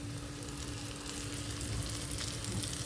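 Food frying in hot oil in a home kitchen, a steady dense crackling sizzle that stays constant and fairly close throughout, with no voices.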